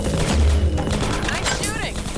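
Gunfire crackles in Half-Life 2: Episode Two, with a burst of rapid shots and booms over dense game noise and a voice partly mixed in.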